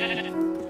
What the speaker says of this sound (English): I clubbed a sheep with a rock.